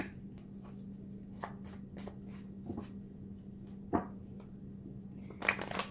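Quiet close-up card shuffling, a run of soft riffling flicks and taps over a low steady hum, ending with a louder burst of riffles.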